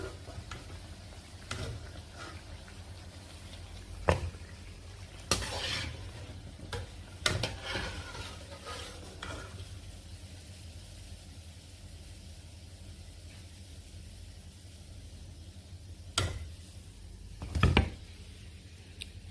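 Leaf fritters made from dankuni leaves frying in hot oil, a steady close hiss of bubbling oil broken by a few sharper clatters and scrapes.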